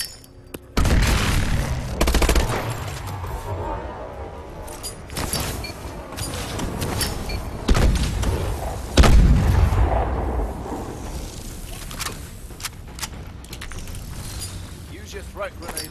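Grenade training explosions from Call of Duty Advanced Warfare, a series of loud booms and bursts of gunfire-like blasts at irregular intervals, mixed with game voice lines and effects.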